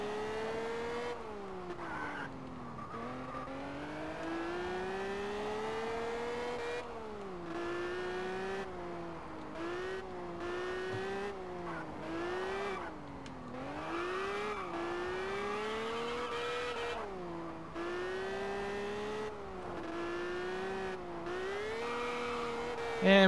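Engine of a race car in Test Drive Unlimited on PC, droning steadily for over twenty seconds with repeated rising revs and abrupt drops at gear shifts, held at a moderate, even level throughout.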